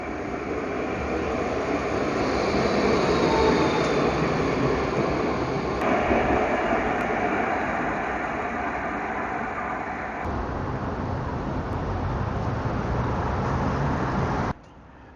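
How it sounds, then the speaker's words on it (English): An Adelaide–Glenelg tram rumbles past with a steady, loud rolling roar that holds for a long stretch, then cuts off abruptly at the end. "another tram makes its way up"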